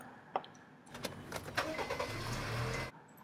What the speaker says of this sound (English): Now turn on the engine.